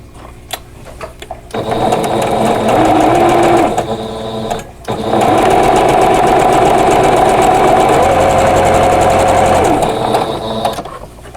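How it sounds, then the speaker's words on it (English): Sewing machine stitching quarter-inch seams on a vintage quilt block, two loud close bursts of fast rhythmic whirring and clatter separated by a short pause, with faint mechanical clicks before and after. "now I need to sew a 1/4 inch on both sides of that drawn line again"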